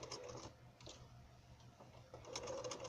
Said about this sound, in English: For right now, I'm sewing over these two that overlap